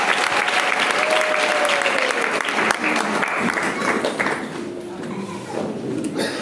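A church congregation claps loudly and continuously, a thick roar of hands with some voices mixed in, easing slightly toward the end.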